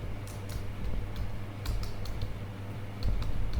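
Computer keyboard keys tapped in short irregular bursts, close and fairly quiet, over a low steady hum with no one talking.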